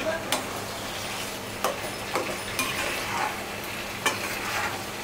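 Winter melon is stirred into simmering beef curry in a pan, a steady wet sizzle running throughout, broken by a few scattered scrapes and clicks of the spoon against the pot.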